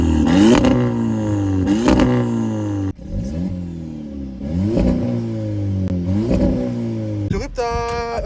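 A tuned VW Polo GTI with an APR remap, full exhaust and manual six-speed gearbox revs repeatedly to about 4000 rpm, loud rising engine sweeps in several pulls close up, with a voice speaking over them.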